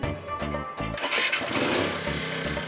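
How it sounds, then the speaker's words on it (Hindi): A scooter engine cranks and catches, then settles into a steady buzzing idle, fairly loud and close with no talking. "लेकिन हाँ भाई भिंडी मास्टर, अभी फिर से ये सब सोचते हुए स्कूटर मत चलाना"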